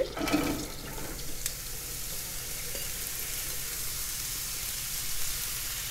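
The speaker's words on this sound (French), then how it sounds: "Je vais sauter mes courgettes." Courgettes sautéing in nearly melted butter with some onion in a pan, giving a steady, moderately loud sizzle with a brief louder burst at the start.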